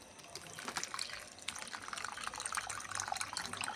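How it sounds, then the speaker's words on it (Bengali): Water pours from a container onto mango pieces for pickle, a faint splashing trickle with small drips, quiet and close, with no voices. "তাই পরিমাণ মতন জলও দিয়ে দেবো"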